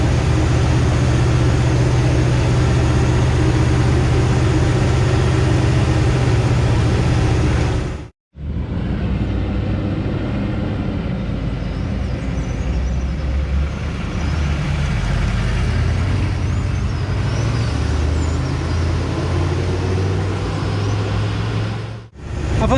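A Humvee M998 with a V8 engine climbs slowly uphill, giving off a steady, loud low rumble throughout, with two brief cut-outs in the sound.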